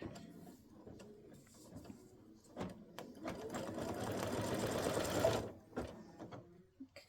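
An embroidery machine stitches a Thanksgiving turkey running-back design on a fabric block in tan and rust fall-colored thread, a steady rapid mechanical chatter that builds and grows louder toward the end before stopping abruptly.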